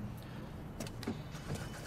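A car door in the Watch Dogs 2 video game clunks as a character gets into a car, a few short thuds and clicks over a steady low engine-like hum, with no talking.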